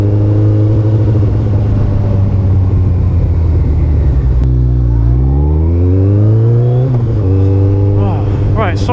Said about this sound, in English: That traffic was awful today.